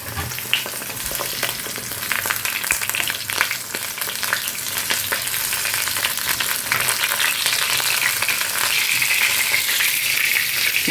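Coconut pieces and eggplant fry in plenty of oil, giving a loud, continuous, close crackling sizzle that holds steady throughout with no voices.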